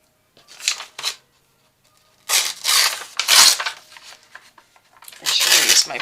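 Paper pages torn off a planner in several short ripping bursts, two quick ones first and then longer tears after a pause, close and fairly loud, with no talking.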